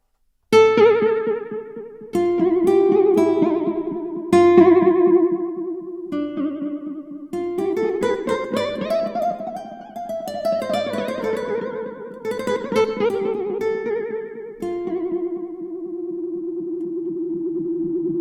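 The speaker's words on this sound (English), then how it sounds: "I'm going to run through some of the presets so you can get an idea of some of the really nice stuff you can get out of the Echo Cat" Synth and guitar-like tones run through the Echo Cat vintage tape echo plugin by Wavesfactory across several presets, each phrase trailing off in repeating delay tails and pitch-wobbling echoes, loud and upfront with no speech.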